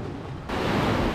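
Ocean waves surge by a secret cave on an island, a broad rushing wash that swells suddenly partway through and stays loud and close, with wind buffeting the microphone.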